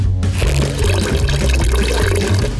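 Water streams steadily from a small piggy-shaped dispenser, a loud continuous pour that runs unbroken and close by, with no talk over it.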